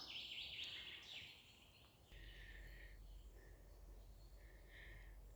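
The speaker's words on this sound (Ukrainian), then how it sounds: "Співають пташки." Small birds chirp and sing in a forest. The calls are faint and distant over a quiet, steady background hum, with several short repeated phrases.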